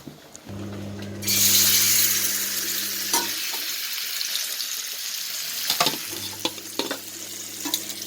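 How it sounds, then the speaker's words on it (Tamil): Black pomfret fish roasting in coconut oil gives a loud hiss and sizzle that swells after a second, with scraping stir sounds and a few clinks throughout. "ஆவோலி மீன் ரோஸ்ட் பண்ணிட்டுருக்கேன்."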